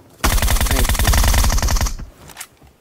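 Rapid automatic gunfire from a weapon in PUBG Mobile's Metro Royale mode, a loud, dense burst of closely spaced shots lasting nearly two seconds before cutting off, followed by a brief fainter rattle.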